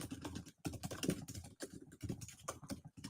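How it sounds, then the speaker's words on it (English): Typing on a computer keyboard: close, quiet bursts of rapid key clicks broken by short pauses, with no voices. "Save us from prompt typing out a bunch of stuff."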